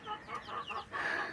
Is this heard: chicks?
yes